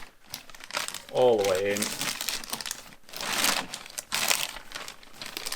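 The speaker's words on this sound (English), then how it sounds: "The holes need to be inside the tub, so just fold it all the way in" A plastic waste bag for a Kranzle Ventos 32 vacuum crinkles loudly in bursts as it is folded down into the tub, with a brief spoken phrase between the rustles.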